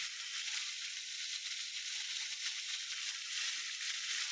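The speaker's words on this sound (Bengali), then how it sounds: "পরিমাণ লবণ দিয়ে ভালো করে ভেজে নেবেন।" Prawns frying in a pan with salt give off a quiet, continuous hissing sizzle that holds steady throughout, with no talking.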